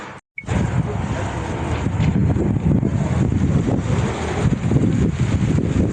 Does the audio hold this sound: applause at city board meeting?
no